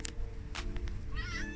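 A house cat lets out a short meow or two, faint over a low steady hum in a garage workspace.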